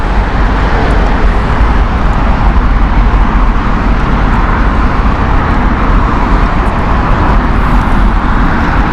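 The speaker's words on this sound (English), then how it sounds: "Behind that, we've got the Singapore Airlines Singapore flight, 777-300." A Singapore Airlines Boeing 777-300 at Heathrow Airport produces a loud, steady, broadband roar of jet engines that persists without a break for the whole stretch.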